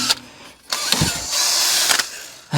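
A wire wheel cleans up a Mazda MX-5 engine part after the old gasket is removed. Two loud, harsh, broadband bursts of spinning bristles grind against the metal, then stop.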